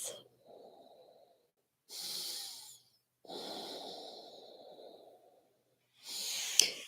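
Deep, slow breathing during a gentle yoga stretch, with three or four long airy inhales and exhales close to the mic, separated by short silences.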